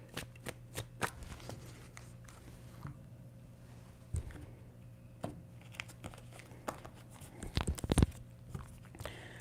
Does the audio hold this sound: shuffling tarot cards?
yes